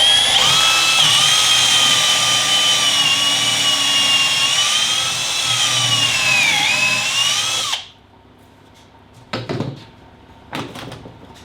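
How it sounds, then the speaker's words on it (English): An electric drill whines loudly and steadily for several seconds while building a custom drawer, its pitch dipping slightly under load, then stops, followed by a few clunks and knocks. "Might make the drill go a bit faster."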